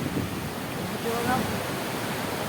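Rough sea surf crashes at Bhardkhol Koliwada beach, a constant loud broadband roar of waves and wind filling the whole moment.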